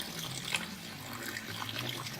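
Tap water running steadily into a basket of raw fiber in a sink, a soft continuous trickle at low level with no talking.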